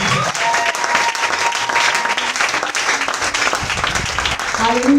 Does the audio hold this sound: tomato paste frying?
no